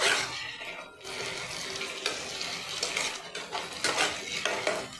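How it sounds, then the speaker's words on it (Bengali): Ginger-garlic paste frying in a pan for a kabuli chana curry, a continuous sizzle with stirring scrapes and clinks of utensils against the pan. "আদা রসুনের পেস্টটা একটু দিয়ে ভেজে নেব।"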